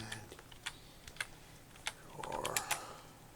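Someone types a search on a computer keyboard, a quiet, close run of sparse clicks that speeds up into a brief flurry of keystrokes toward the end.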